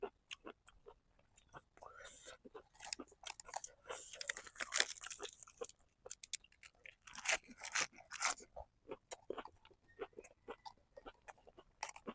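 Steamed herbal apple snails being chewed close to the mic in a mukbang, with repeated soft crunches and wet bites that come in bursts and pauses.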